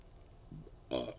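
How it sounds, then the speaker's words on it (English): A short, low belch rises briefly near the end, close to the microphone and fairly soft against a quiet background, preceded by a faint throaty rumble. "I don't mean to burp in your ear"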